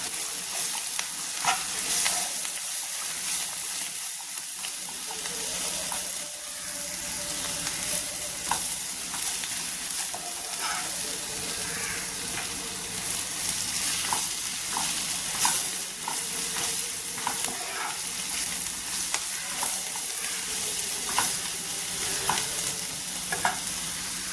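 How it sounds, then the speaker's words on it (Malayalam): Masala sizzles in a pan for a Kerala jackfruit dish while a utensil stirs it, the frying hiss steady and close with repeated light scraping clicks throughout. "നല്ലതുപോലെ ഒന്ന് ഇളക്കി കൊടുക്കാം"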